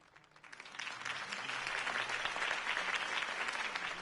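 A crowd at a campaign rally in the game Batman: Realm of Shadows applauds after Harvey Dent's speech, a dense, steady wash of clapping that swells within the first second and holds loud to the end.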